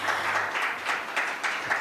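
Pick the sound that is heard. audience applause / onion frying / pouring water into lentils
audience applause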